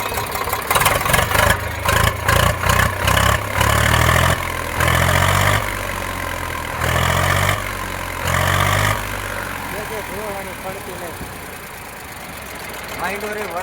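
A close Eicher 368 tractor diesel engine idles with a chugging rhythm, with pulsing bursts early on before it settles to a steadier drone, while someone talks over it.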